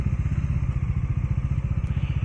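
A motorcycle engine runs steadily with a loud, pulsing low-frequency throb while being ridden on a Republic Day ride at Centurion University, sounding close and continuous throughout with wind noise.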